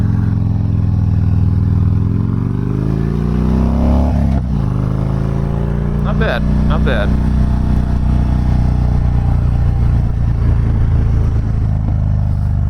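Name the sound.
Harley-Davidson Dyna Fat Bob motorcycle riding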